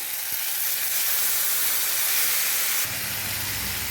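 Boirali fish and vegetable mixture tipped into a hot pan of fried onions, a loud hissing sizzle bursting up and holding, then easing into a lower crackle near the end, close with no speech.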